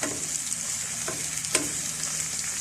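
Quail fry in a pan, giving a steady close sizzle while a utensil stirs and scrapes them in a few distinct knocks.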